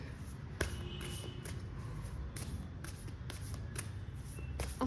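Tarot cards are shuffled by hand at close range, quietly. The crisp riffling and slapping bursts come in an uneven rhythm, with no talk.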